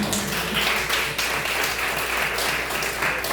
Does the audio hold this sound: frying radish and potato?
no